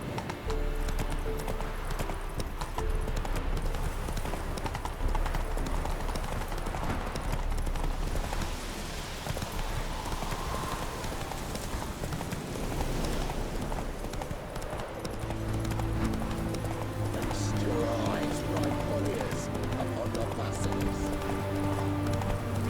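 Roach, Geralt's horse in The Witcher 3 video game, gallops with steady rapid hoofbeats and occasional snorts, continuous and close over game music, while voices speak faintly now and then.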